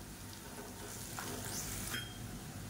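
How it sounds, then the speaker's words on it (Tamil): Onions and chili powder sautéing in oil in a pan, a faint, steady sizzle with soft scraping stirs, quiet and close with no talking. "பொடி சேர்த்து நல்லா வதக்கியாச்சு."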